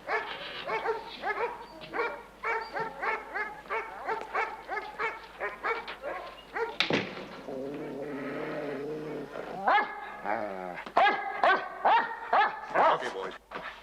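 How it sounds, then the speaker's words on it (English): Several German dogs bark in repeated bursts at close range, with harsher growling textures between barks, as a voice speaks over them. "Beautiful dogs."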